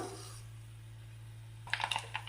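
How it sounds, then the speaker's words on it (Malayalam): Soft sizzle of oil, then a cluster of quick sharp pops and crackles as mustard seeds burst close by toward the end. "അപ്പോൾ ഇതാ കടുക് പൊട്ടി തുടങ്ങിയിട്ടുണ്ട്"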